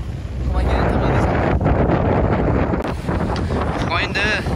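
Strong wind buffets the microphone on a boat's sun deck on the way to an island in Australia, a loud, continuous roar with gusty swells and brief dips throughout.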